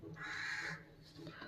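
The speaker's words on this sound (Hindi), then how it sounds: "कौवे की आवाज आ रही है?" A crow caws once in the distance, a faint drawn-out harsh call followed by a softer second note, heard quietly in the background during a tarot reading.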